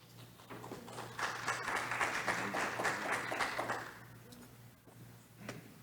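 A meeting crowd breaks into applause, the clapping swelling to a full, lively burst, then thinning out to scattered claps near the end over a low steady hum.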